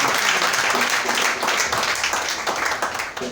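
A church congregation applauds during a sermon, giving loud, sustained clapping from many hands that fills the room, with some indistinct voices mixed into the noise.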